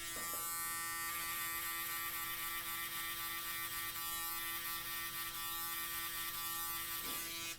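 Electric foil shaver used to taper and fade a comb-over haircut, buzzing steadily and loudly at close range throughout, its tone shifting slightly as it moves over the head, with no talking.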